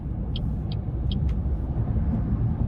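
A BYD Atto 3 electric car travels at road speed while overtaking a truck, a steady broadband road and wind rumble filling the scene, with a few short high electronic chirps near the start.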